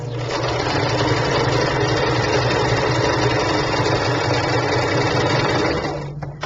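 A sewing machine runs continuously while stitching a handmade pillow, a loud, steady, close mechanical whir with a fast even rhythm that winds down at the end.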